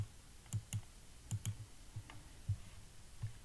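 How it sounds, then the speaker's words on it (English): A computer mouse clicking a zoom in button several times, crisp close clicks, some in quick pairs and some single, evenly spread across a quiet room. "let's click the zoom in button up here a few times"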